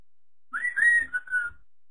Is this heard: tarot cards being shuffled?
no